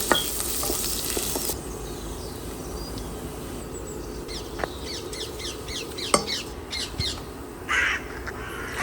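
Chopped garlic frying in about four tablespoons of oil for Malvani fish curry: a steady, moderate sizzle with a few clinks of a utensil, while crows caw repeatedly in the background.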